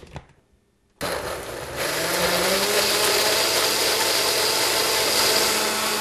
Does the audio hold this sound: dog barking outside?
no